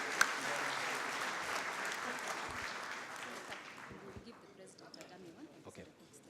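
A hall applauds KEPSA directors at the organisation's 10th anniversary celebrations in Kenya, the steady clapping tapering off gradually over several seconds.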